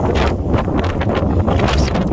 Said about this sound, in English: The wind is increasing in intensity.